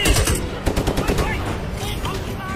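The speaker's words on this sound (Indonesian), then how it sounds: "Kemudian tak lama terdengar suara tembakan dari handphonenya" Rapid bursts of film gunfire, machine-gun style volleys played through a phone, crackle loudly at the start and then trail into a rumbling tail.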